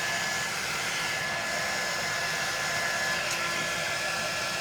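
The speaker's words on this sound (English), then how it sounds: "Okay, I've got water on my dryer." A hair dryer blows with a continuous, even whooshing hum, close and steady throughout with no pauses.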